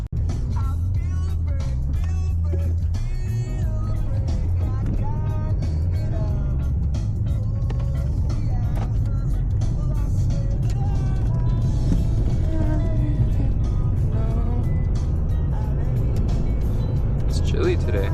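A car engine hums steadily as the vehicle drives along the road, with a constant low rumble under ongoing talk.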